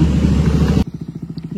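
A motorcycle engine with a dB killer fitted in the exhaust, a loud steady roar that drops abruptly to a quieter, evenly pulsing idle putter close by.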